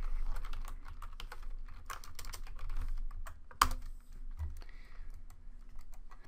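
Fingers type on a computer keyboard while setting up Python code: a quiet, steady patter of keystrokes with one sharper click partway through, close and alone.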